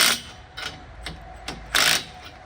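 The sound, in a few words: socket wrench starting bolts on tractor canopy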